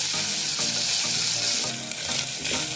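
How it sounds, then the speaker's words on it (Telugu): Onions and ginger garlic paste frying in a pan for a tomato drumstick curry, a loud, dense sizzle with repeated scraping strokes of a spatula, close and unaccompanied by speech. "ఒక స్పూను అల్లం వెల్లుల్లి పేస్ట్ వేయాలి. ఇవి బాగా వేపాలి."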